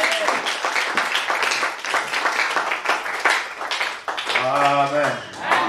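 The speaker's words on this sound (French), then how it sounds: "Est-ce qu'on peut acclamer pour lui?" A church congregation applauds the pastor with sustained, steady clapping from many hands, while voices call out over the applause and one voice rises near the end.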